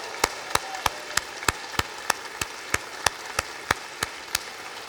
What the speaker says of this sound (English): let's give these brilliant young people a round of applause